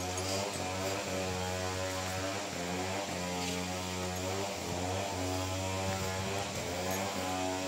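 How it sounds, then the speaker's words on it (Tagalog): A chainsaw drones steadily somewhere nearby, a constant buzzing engine with a rough pulsing texture and no pauses. "Meron nagche-chainsaw"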